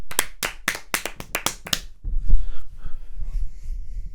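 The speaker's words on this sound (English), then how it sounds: "So who are we giving the round of applause?" A few seconds of sharp hand claps in a quick uneven burst, then the clapping stops and low rumbling noise continues underneath.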